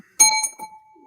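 A bell struck once on an open-mic podcast set, a bright metallic ding with a long ringing tone that fades slowly, followed by a faint murmur underneath.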